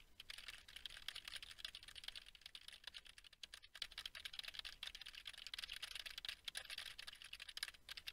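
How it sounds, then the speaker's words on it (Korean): Computer keyboard keys and mouse buttons pressed rapidly, a dense stream of light plastic clicks and clacks picked up through an ASUS ROG Strix Go Core headset microphone, fairly quiet and continuous, with one short pause midway. "키보드와 마우스 버튼을 눌러서 확인해 보겠습니다."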